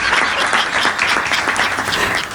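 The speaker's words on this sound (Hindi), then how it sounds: "आपकी ताली बता रही हैं" A crowd applauds at a Hindi hasya kavi sammelan, a comic poetry gathering, with dense, loud clapping that carries steadily throughout.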